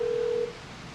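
A single steady telephone dialing tone sounds loud and clear for about half a second, then cuts off, leaving faint background hiss with no speech.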